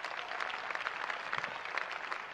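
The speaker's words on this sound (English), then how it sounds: "Let's put our hands together for Jesus." A church leadership and godliness gathering erupts in audience clapping, a steady, fairly distant wash of many hands with no speech over it.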